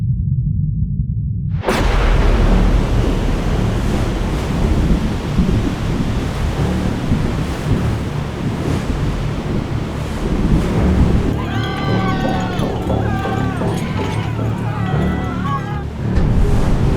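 Roaring typhoon at sea, with heavy wind, crashing ocean waves and rumbling thunder around a ferry, a dense, continuous loud wash of storm noise that swells and surges throughout.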